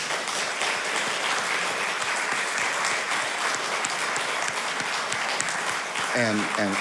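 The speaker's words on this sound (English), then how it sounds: "I hope everyone will join me in another round of applause for all the musicians we've heard from today." Audience in a church hall giving steady, full applause for musicians after a service performance, a continuous wash of clapping, with a voice starting to speak at the very end.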